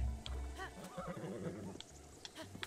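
A horse in The Legend of Zelda: Breath of the Wild whinnies in a wavering, rising-and-falling call amid soft hoof clops and game sounds, with a few sharp clicks near the end.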